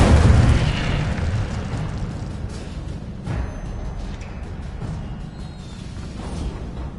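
A fiery Incendio spell blast erupts in the Hogwarts Legacy video game, a loud booming whoosh at the start that rumbles on as a low roar, with a second softer burst a few seconds later.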